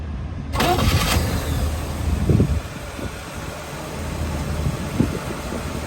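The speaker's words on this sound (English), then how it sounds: "we're going to fire it up now and then drive it" A 1974 Chevrolet Corvette convertible with a numbers-matching four-speed fires up after a short crank. It then settles into a loud, close, steady idle with slight rhythmic lope.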